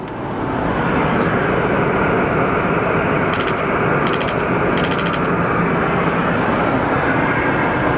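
An airliner in Maryland One livery passes at Phoenix Sky Harbor Airport, its engines a loud, steady broadband roar that fills the whole stretch, with no one speaking.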